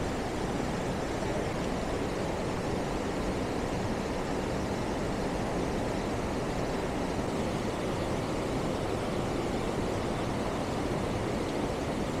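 Waterfall near Maithon Dam fed by DVC water flowing over rocks, a steady, loud broadband rush that never lets up, with no voices.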